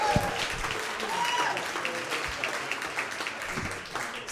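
Audience applause for comedian Stephen Barrett at a comedy club, a moderate crowd clapping steadily with some cheers and scattered voices, easing slightly toward the end.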